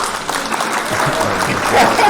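A canned applause sound effect plays on the live morning show Good Morning Aurora as a guest is introduced, a steady wash of clapping with voices faintly underneath.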